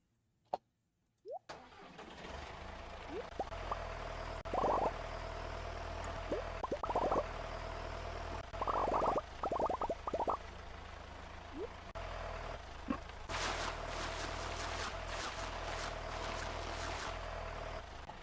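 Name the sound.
tractor engine sound in the video game Stardew Valley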